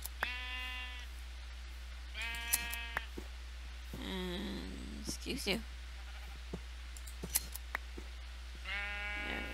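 Minecraft sheep bleat repeatedly, several drawn-out wavering calls spaced across the stretch, while someone talks in between and a steady low hum sits underneath.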